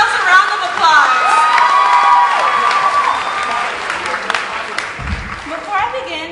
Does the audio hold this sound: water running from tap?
no